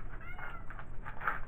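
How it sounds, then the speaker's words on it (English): Bailey, a pet cat, lets out a couple of soft, drawn-out meows close by in a quiet room, with faint low background rumble and no talking. "it's our cat Bailey. She is trying to make her presence known in the video."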